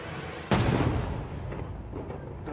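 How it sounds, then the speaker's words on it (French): A loud sudden blast from a fireworks cannon firing, one sharp boom followed by a long rumbling decay and scattered crackle, with no voices. "C'est les canons."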